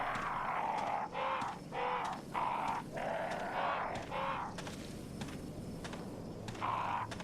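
Crows cawing in the video game Resident Evil Remake, a series of about eight harsh, evenly spaced calls at moderate distance over a low ambient rumble.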